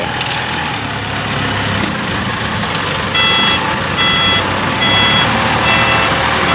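A dump truck loaded with stones for a temple pulls out over a steady engine rumble, its repeated reversing beeps sounding close and clear, growing a little louder toward the end.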